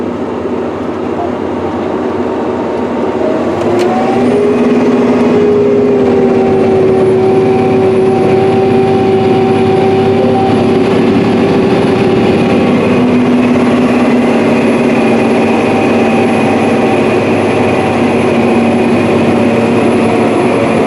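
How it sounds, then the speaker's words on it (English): A heavy John Deere 9620RX tractor engine drones loudly and steadily for a long stretch while pulling a 56ft John Deere 2210 field cultivator, with a sustained whine rising and shifting in pitch over the rumble. "as the tractor works its way back and forth, staying ahead of the corn planter"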